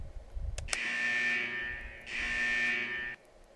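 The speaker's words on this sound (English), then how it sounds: "The buzzer signaling the test ends finally rings." A loud electronic buzzer from the game Persona 4 Arena signals the end of a test, sounding in two long sustained blasts separated by a brief gap, alone without talk.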